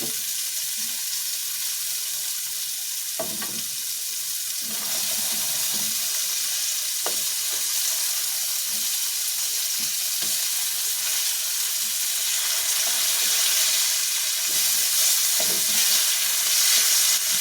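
A sausage frying in a pan, giving a steady close sizzle and hiss that runs throughout with a few faint clicks and bumps.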